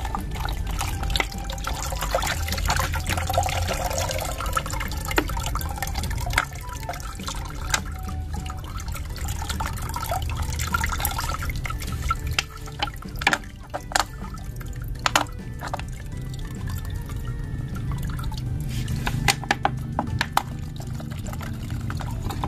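Liquid fertilizer made from soaked aloe vera leaves being strained, with a steady trickle and pour of water running continuously, dotted with faint drips and small splashes, close and fairly quiet with no voices.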